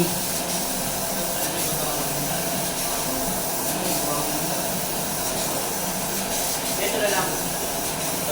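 Spray paint hissing steadily onto a steel staircase as a background coat, a continuous broad airy spray that runs the whole time at a close, even level.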